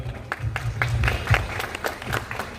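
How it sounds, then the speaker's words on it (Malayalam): An audience at a Bhagavathi temple gathering claps for a young girl, a short burst of scattered applause with distinct individual claps, moderately near and brief. "അപ്പൊ കുഞ്ഞ് ദേവനന്ദയ്ക്ക് നല്ലൊരു കൈയടി കൊടുക്കുക."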